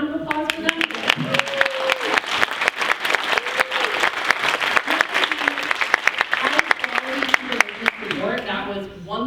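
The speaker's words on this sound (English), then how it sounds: "can we get another round of applause for them?" An audience at a caregiver job quality event gives a sustained round of applause. The dense, even clapping runs throughout, and voices speak and call out over it.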